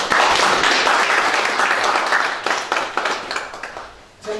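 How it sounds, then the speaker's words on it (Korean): An audience claps at a Rotary Club 40th anniversary ceremony, a dense burst that starts loud and thins into scattered, tapering claps before a brief pause. "여기 좀 박수 한번 쳐주세요."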